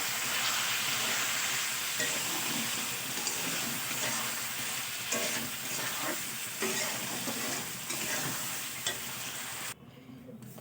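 Bitter gourd and potato fry in fish oil with Kashmiri chilli powder and a splash of water while being stirred. A constant sizzle carries repeated scraping strokes of the spatula, and the hiss drops sharply near the end.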